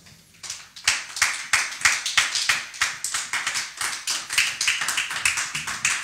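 Church congregation applauding during a French-language worship service, a dense, steady round of many hands clapping that starts after a brief quiet moment and continues evenly, moderately near, with no speech over it.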